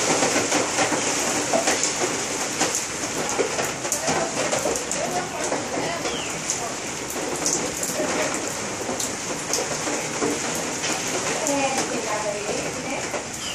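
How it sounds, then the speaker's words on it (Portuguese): Summer rain falls steadily, pattering close by on surfaces in a dense, continuous wash, with a voice coming through at times. "Chuva de verão."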